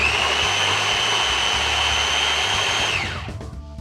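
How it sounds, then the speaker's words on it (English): A food processor whirs steadily at high speed, finely chopping 1.5 pounds of portobello mushrooms for Beef Wellington duxelles, a loud continuous motor whine that winds down and stops near the end. "you can be lazy like me and use a food processor"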